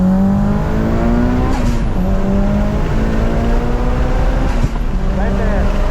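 A Mitsubishi Evo 9 on a racetrack drones loudly and steadily, its engine pitch climbing and dipping, with a couple of sharp exhaust pops cracking through near the middle and end.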